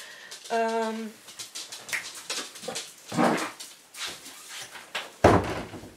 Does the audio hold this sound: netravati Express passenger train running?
no